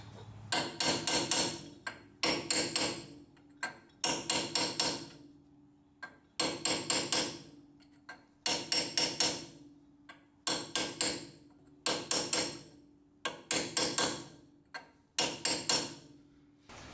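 Hammer driving a sway bar bushing's metal sleeve flange into a Ford van axle: groups of sharp metallic blows come in quick bursts of about four to six, with short pauses between groups, close and loud, no talk.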